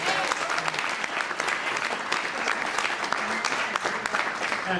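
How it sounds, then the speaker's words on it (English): Sustained audience applause follows a speech honoring Mother Jones, a dense, even clatter of many hands clapping throughout, with a few faint voices underneath. "I just want to give her another big round of applause for that."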